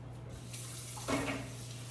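Hands being washed under a running kitchen tap, a steady close rush of water with a brief splashing change as the hands move into the stream.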